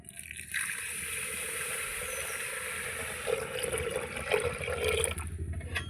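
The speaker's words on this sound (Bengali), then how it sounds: "এবার জল দিয়ে দিচ্ছি" Water is poured into a pressure cooker holding moong dal, a steady rushing splash that starts abruptly and runs unbroken for about five seconds before easing off.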